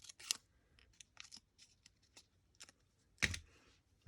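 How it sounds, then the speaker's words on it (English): Scissors snip a small slit into a 1-inch paper circle, a few crisp cuts spread out with one louder snip near the end, close and alone without talk. "I'm just taking this circle, 1-inch circle. I'm just cutting a little."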